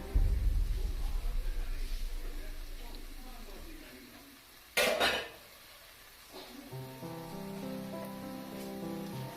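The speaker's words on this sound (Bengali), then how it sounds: "আপনারা দেখতে পাচ্ছেন মশলাটাকে আমি কেমন করে কষাচ্ছি" Spice masala for a spicy Bengali egg curry being stirred and sautéed in a pan, with scraping and clinking of utensil against metal, a sharp burst of sizzle midway, and a steady low frying hiss toward the end.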